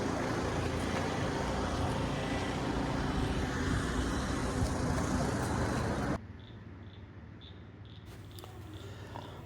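Car driving along a road in Trincomalee, Sri Lanka, giving a steady broadband rush of road and engine noise that drops abruptly to a quieter hum partway through, with no talk.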